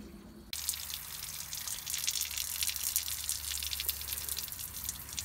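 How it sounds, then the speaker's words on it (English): Water pours steadily from the drain of an RV's fresh water tank, a continuous broadband splashing rush that starts abruptly after a brief quiet moment and stays loud and close throughout, with no talking. "We'll also pull the cap off of the fresh water tank and let that drain entirely out."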